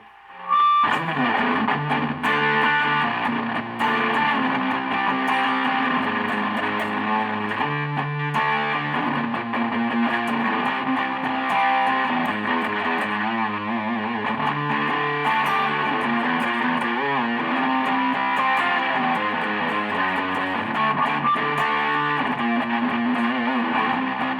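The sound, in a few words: electric guitar, bridge humbucker, distortion pedal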